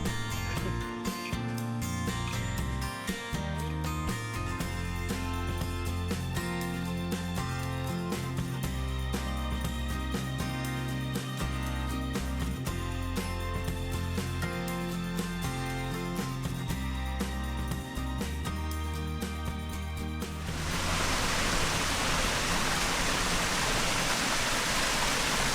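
Crystal Shower Falls in Dorrigo National Park, New South Wales, Australia. Music plays for about twenty seconds, then a loud, steady roar of falling water takes over on its own.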